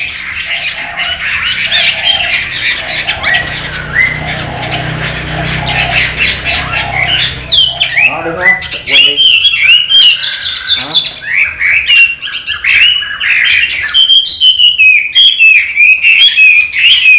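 A caged Chinese hwamei songbird sings loudly and close by, with a long continuous run of varied, rapid warbles and trills and repeated phrases.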